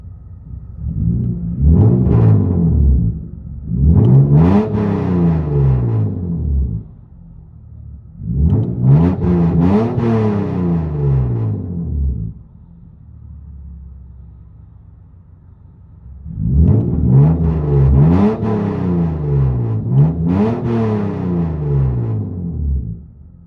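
Cabin of a 2016 Hyundai Genesis Coupe with a 3.8L V6 on straight pipes: three long swelling revs of a deep, booming exhaust, each rising and falling, separated by quieter idle rumble.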